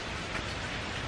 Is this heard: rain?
yes